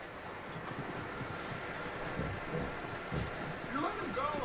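Horse hooves clip-clopping in the video game Red Dead Redemption 2, soft steady hoofbeats at a walk under wind noise while characters talk over them.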